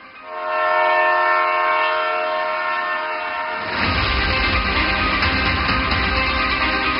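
A train pulls out on its first run from a newly inaugurated Amrit Bharat railway station in India, with a long, loud horn blast followed by the rising rumble and clatter of the wagons starting to move.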